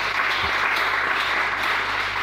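A church congregation claps together in dense, sustained applause that stays loud and steady from start to finish, with no voices rising above it.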